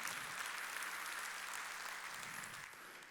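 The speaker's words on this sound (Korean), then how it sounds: "깨달은 사람만 박수 치라고." Congregation applauding during a Korean church Sunday worship service, a dense, steady wash of many hands clapping at once that holds for about three seconds and eases off slightly at the end.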